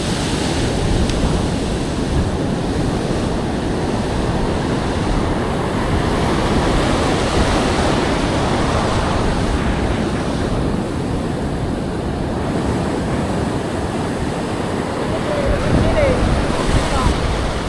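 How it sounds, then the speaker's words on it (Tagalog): Rough sea waves and gusting wind buffet the microphone at a coastal fishing spot, a continuous broad wash of surf and wind noise that stays loud throughout. "Medyo maalon-alon yung spot natin ngayon."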